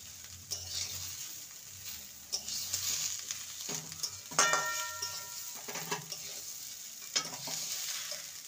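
Cashews, raisins, paneer and vegetables being stirred in a pan for navaratna pulao, a spoon scraping and clinking against the pan in repeated strokes over a steady sizzle, close and fairly loud, with no talk.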